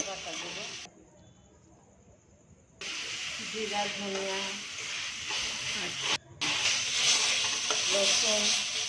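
Spices fry in a pan at the start of an okra and potato curry, giving a continuous close hiss and sizzle with occasional stirring. The sound is cut by two abrupt drops where it goes nearly quiet.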